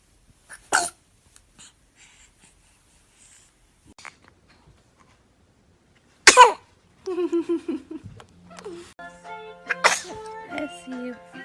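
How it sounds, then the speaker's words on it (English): A baby sneezes in quick short bursts, separated by quiet gaps, followed by adult voices reacting nearby. "Oh, cute baby sneeze."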